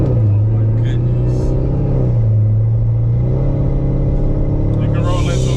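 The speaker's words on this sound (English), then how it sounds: "Let it shift through a couple gears and see how you like it." A Corvette C7 Z06 with an 8-speed automatic accelerates hard, the loud close engine note rising and dropping as it shifts up through the gears, with people talking over it inside the car.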